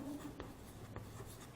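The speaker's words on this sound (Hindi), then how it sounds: "इनको हम लिखेंगे दे आर" Marker or chalk strokes on a board during a class 10 biology lesson on heredity, a few short scratchy bursts spaced about half a second apart, fairly close, with no talk over them.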